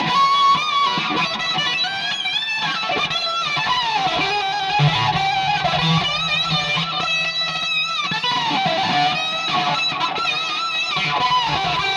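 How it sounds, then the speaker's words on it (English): A wailing electric guitar solo with bending, sustained notes, washed in deep, lingering reverb over a full band backing. "So I add a bunch of deep reverb in here."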